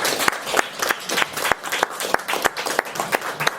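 Audience applause at a hanok traditional-house concert honoring composer Isang Yun: a small crowd claps in scattered, sharp, close hand claps with an uneven rhythm for a few seconds.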